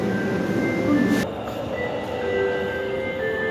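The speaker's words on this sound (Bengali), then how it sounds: "ট্রেনটা চলে গেছে।" A metro train pulls out of an underground station, its rumble and rail noise loud up close and easing after a brief hiss, with faint station sounds behind.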